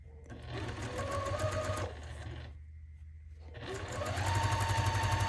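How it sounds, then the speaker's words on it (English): A sewing machine stitches around the perimeter of a quilt-as-you-go scrap block, whirring loudly in two bursts separated by a brief pause. "now I want to stitch around the perimeter of my block"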